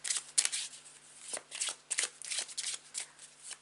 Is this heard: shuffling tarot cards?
yes